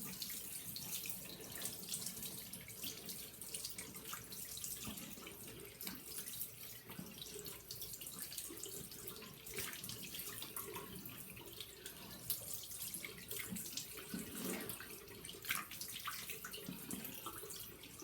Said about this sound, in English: Wash it off clean.